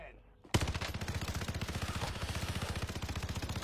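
Automatic gunfire in Call of Duty: Warzone: after a quiet moment, a loud sustained burst of rapid, evenly spaced shots rattles on without pause, close and punchy.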